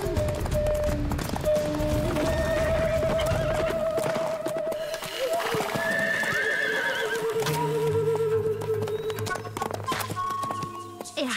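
Horses neigh loudly several times over the steady thudding of hooves, as if a herd is galloping close by.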